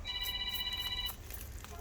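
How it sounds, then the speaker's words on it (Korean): An incoming call sets off an electronic telephone ringtone, a steady bright warbling tone that rings clearly for about a second and then cuts off, leaving quiet room noise. "사장님 전화 왔어요"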